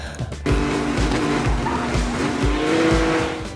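Sports cars racing in Need for Speed, with roaring engines, tire squeals and skidding under a steady, loud rush of motor noise and rhythmic thumps throughout.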